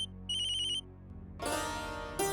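An incoming call sets off a mobile phone ringtone indoors in a Hindi TV drama scene: a bright, pulsing electronic beep, then a brief pause, then a louder melodic ringtone phrase that keeps playing.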